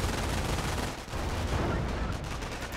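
Sustained MG42 machine-gun fire in a Company of Heroes match, a dense continuous rattle with many overlapping shots, loud and close, dipping briefly midway before the burst resumes, with no talk.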